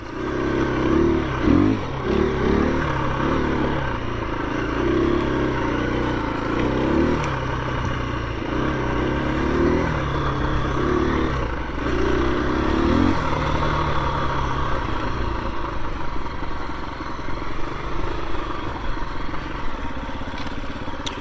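A 2021 KTM 350 EXC-F dirt bike is ridden, its four-stroke engine droning and revving steadily throughout, loud and close with some clatter as the revs rise and fall; no speech.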